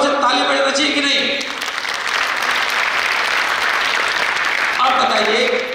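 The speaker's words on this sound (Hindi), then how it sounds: "तो उनके लिए एक बार जोर से ताली बजाना चाहिए कि नहीं?" Loud, dense clapping from an audience at a talk, rising right after a voice and filling the room for several seconds before speech returns near the end.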